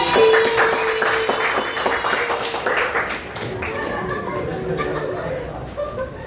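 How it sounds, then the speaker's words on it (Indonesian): A class of grade 11 students breaks into clapping, a quick patter of many hands mixed with laughter and chatter that tapers off over a few seconds. "Tepuk tangan dulu kelas 11."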